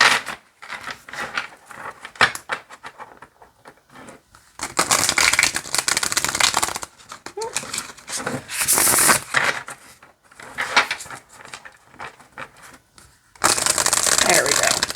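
A Black Violet tarot deck being riffle shuffled by hand: several bursts of rapid crisp card flutter, each a few seconds long, separated by quieter pauses, close to the microphone with some talk around them.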